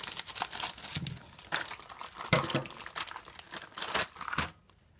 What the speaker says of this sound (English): Okay, so cut the packaging.